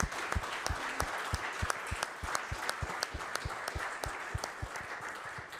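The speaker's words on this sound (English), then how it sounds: "it's also time for a big round of applause for all experts who have contributed to this huge project" Steady audience applause at an engineering conference on Eurocode design standards, many hands clapping together in a dense, even patter that holds at a moderate distance for the whole stretch.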